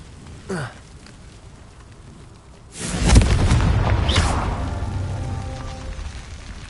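A Confringo explosion spell in Hogwarts Legacy, a short whooshing cast followed by a deep, loud boom that rumbles and slowly fades, with a second brief whoosh rising within the decay.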